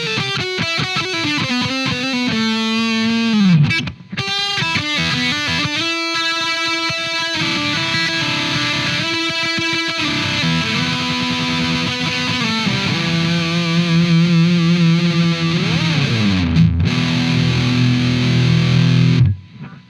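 Heavily distorted IYV Les Paul electric guitar on the bridge pickup riffing with bright, gritty tone, sustained power chords and single-note runs, loud and continuous with brief pauses.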